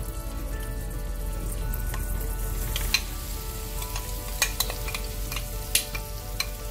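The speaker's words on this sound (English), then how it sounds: "And we're going to fry this till our shrimp is done." Shrimp coated in rice powder frying in a pan, a steady close sizzle with occasional sharp pops and spatters, no voices over it.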